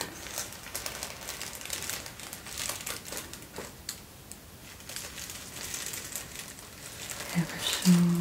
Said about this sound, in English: Moving my hand down on the tissue paper.